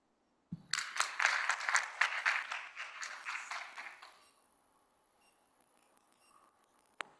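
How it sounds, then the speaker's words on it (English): A small audience at an academic linguistics conference session claps for presenters, a burst of applause that starts sharply, holds for about three seconds, then fades into quiet room noise, with a faint click near the end. "Please clap for them."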